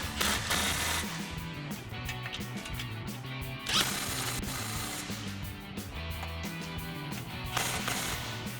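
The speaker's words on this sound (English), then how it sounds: "now we can take our 15mm socket and tighten down our 2 bolts." A 15mm socket on a ratchet tightens two bracket bolts for a Rough Country nudge bar on a 2021-2024 Ford Bronco. It makes a steady, close run of rapid ratcheting clicks with a few louder surges.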